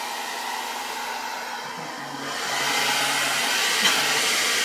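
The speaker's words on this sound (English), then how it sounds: "So go to the blow dryer." A blow dryer used as a heat tool for painted craft door hangers runs continuously, a steady close whooshing hiss that grows louder partway through.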